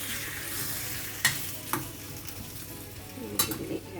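Potatoes being mashed into a simmering masala curry in a pan, a steady low sizzle and stirring scrape broken by a few sharp spoon knocks against the pot.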